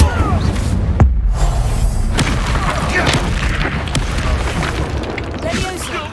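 A loud booming blast from the Incendio fire spell in the Hogwarts Legacy video game, with a sharp impact followed by sustained crackling roar amid combat noise.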